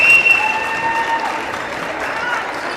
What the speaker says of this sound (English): Seton's fans there giving their team a big round of applause.